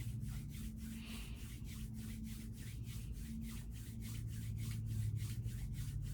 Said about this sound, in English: I'm rubbing my hands together.